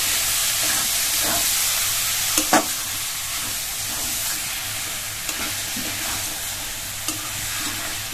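Spinach and chicken masala sautéing in a pan, a steady broadband sizzle with scraping stirs and a few sharp clanks of the spoon against the pan, close and continuous.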